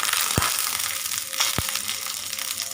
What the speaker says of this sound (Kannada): ಇವಾಗ 1 ಕಪ್ ಮಖಾನವನ್ನು ಹಾಕ್ತೀನಿ